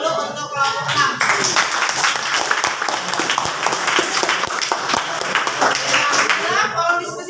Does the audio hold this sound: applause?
yes